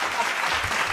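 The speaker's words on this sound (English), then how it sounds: "Let's give him a round of applause" A brief burst of steady crowd clapping for an incoming Toastmasters District 75 Director, a dense, even patter of many hands at moderate loudness with no break.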